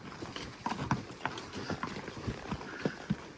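Hooves clip-clop at a walking pace, several horses moving together outdoors during a spring ranch roundup, with irregular, overlapping footfalls and faint background noise.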